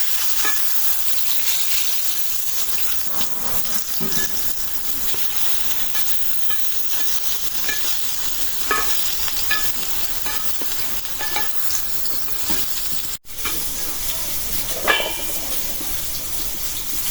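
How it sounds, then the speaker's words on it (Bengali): Eggplant (brinjal) slices fry in oil in a pan, giving a steady, close hiss of sizzling throughout, with occasional scrapes and stirring clicks and a brief dropout near the end. "বেগুন ভাজা হয়ে গেছে উঠাই নেই"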